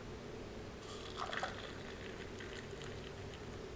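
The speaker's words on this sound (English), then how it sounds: "Add some hot water." Hot water poured onto fine instant coffee powder from a cold-weather military ration, a soft trickling splash that swells briefly and then fades under steady background hiss.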